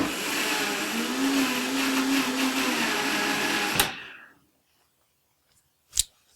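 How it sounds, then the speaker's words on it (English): A miniature Vitamix blender whirs loudly and steadily as it pre-blends chocolate quinoa cake batter, then cuts off abruptly after about four seconds, followed by quiet and a single short knock. "So I'm just going to give this a pre-blend"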